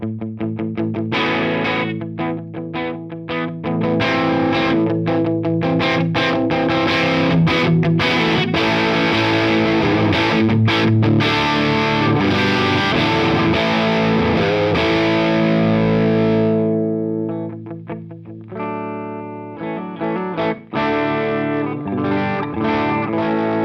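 Electric guitar through a Beetronics boost pedal, loud and gritty with chorus-like shimmer, strummed and riffed continuously before a brief drop and a return to quieter picking.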